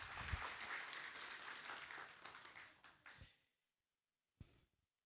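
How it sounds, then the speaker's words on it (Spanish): A crowd applauding, dense clapping that thins out and stops, followed by a lone clap after a short silence. "Un aplauso para el Señor."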